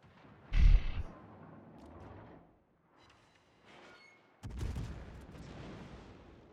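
Naval guns boom in a World of Warships-style video game battle as Des Moines cruisers fire: a sharp, heavy blast, a quieter stretch, then another rumbling salvo that rolls on, with no talk over it.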